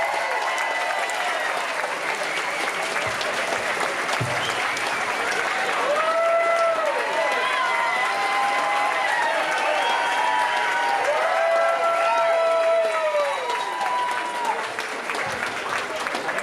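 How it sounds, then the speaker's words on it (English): A crowd claps steadily and loudly throughout, with whistles and a few cheers rising over the sustained applause. "Let's give him a great round of applause."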